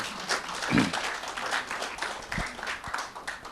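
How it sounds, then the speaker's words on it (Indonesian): Audience applause for Mas Ari, a former drug user, at an Indonesian talk event: scattered hand claps with a few sharper nearby claps, moderately loud across the whole span. "tepuk tangan untuk Mas Ari"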